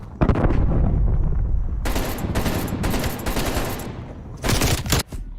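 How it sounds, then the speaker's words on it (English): Loud, close bursts of AK rifle fire in a Call of Duty match on PC, rapid automatic volleys in several strings separated by short pauses, with a final heavy burst near the end. "Sniping with the AK."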